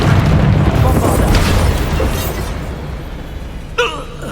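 A Bombarda spell explosion goes off in the Hogwarts Legacy game, a loud, sustained booming blast that fades out, followed by a short sharp burst near the end, with a voice speaking over it.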